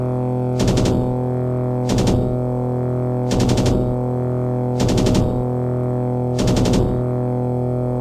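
Five short bursts of machine gun fire from an aircraft in the flight game Aces of the Pacific, evenly spaced over a constant droning engine hum, each burst a rapid rattle lasting under half a second.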